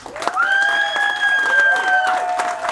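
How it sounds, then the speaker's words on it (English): A crowd applauds caregivers and spouses of veterans at a brigade appreciation event, steady clapping running beneath sustained whistle-like tones and a few cheers throughout. "Let me give a round of applause to all the caregivers or spouses of the veterans"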